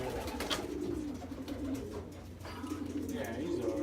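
Pigeons cooing steadily inside a backyard pigeon loft, a continuous low murmuring close by, with people talking over it.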